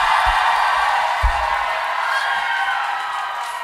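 A crowd at a beatbox battle cheers and whoops loudly in a sustained roar, with a couple of low thumps near the start, and the noise tapers gradually over several seconds.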